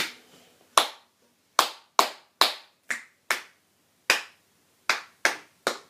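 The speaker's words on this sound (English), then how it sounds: "So if I clap you this rhythm, I want you to clap it back for me, okay?" Hands clap out a short rhythm of crotchets and quavers during an acoustic guitar lesson: eleven crisp, close claps in an uneven pattern, mixing spaced beats with quicker pairs, with no talking.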